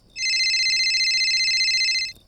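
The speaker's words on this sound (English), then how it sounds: "My phone started ringing." A phone ringing, one bright electronic warbling tone held steadily for about two seconds, loud and alone against silence.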